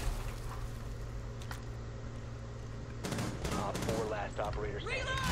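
Gunfire from the video game Rainbow Six Siege cracks in a few sharp bursts and short volleys over a steady game background. A player talks now and then.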